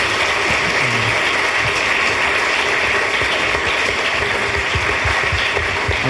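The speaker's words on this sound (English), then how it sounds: "Let's give a round of applause for our panelists tonight." Panel event audience gives a round of applause for the panelists at Start-Up Chile Week, a dense, loud, continuous wash of clapping from a close crowd with no talking over it.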